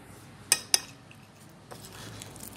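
A lid is set onto a pot while making sweet Vietnamese banh chung rice cakes with honey, giving two sharp metallic clinks close together, then quiet low kitchen noise.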